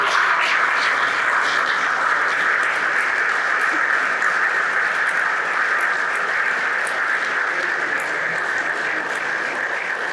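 Sustained, dense applause from a large audience at a tribute event fills the whole stretch, steady and loud with no talking.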